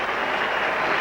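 A cricket crowd at Headingley, England against West Indies in a 1984 Test match, claps and cheers in a brief, steady wash of applause heard at a distance.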